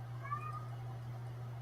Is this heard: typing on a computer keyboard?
no